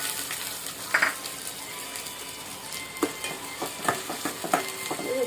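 Small shallots frying in a pan of popped mustard seeds for a dried anchovy fish curry, giving a steady close sizzle broken by a few sharper crackles and spatula scrapes.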